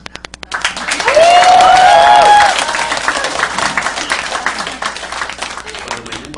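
A few hand claps at a speaking event open into a short burst of audience applause. A sustained whoop or cheer rises over the clapping, which then drops back while a speaker's voice continues over scattered clapping.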